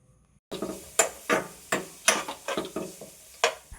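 Sliced onions with salt stirred in a frying pan for a bitter gourd dish: a dozen or so sharp scraping and clinking strokes of a spoon against the pan, irregular and close, over a light sizzle, with no talk.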